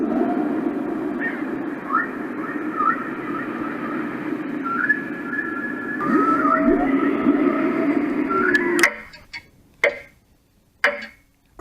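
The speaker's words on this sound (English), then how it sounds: "It sounds like space aliens. And whales." A roffie N600 white noise machine plays its space alien and whale sound, a steady wash of low droning tones with gliding, warbling upper notes like whale song, which cuts off near the end into a few sharp clicks.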